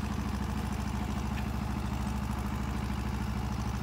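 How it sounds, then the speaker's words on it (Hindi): A tractor engine running steadily at around 1500 to 1600 RPM while driving a Field King rotavator in a wet, grassy field, a loud, constant low rumbling drone with a fast regular pulse and no talk. "इसमें 1500 से 1600 आरपीएम पे चल रहा है ट्रैक्टर।"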